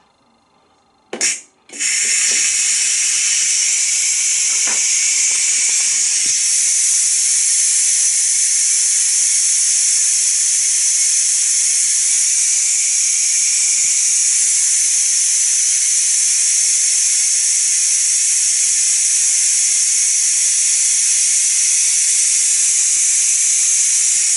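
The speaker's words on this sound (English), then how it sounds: "I'm just going to release the vent" Steam from a Ninja Foodi pressure cooker's release vent: after a brief click, a loud, close, steady high-pitched hiss bursts out and holds continuously without letting up, with no talk over it.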